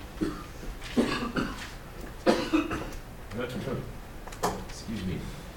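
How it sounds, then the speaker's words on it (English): A person coughs several times in short bursts, close and fairly loud, with speech nearby. "This cough won't go away."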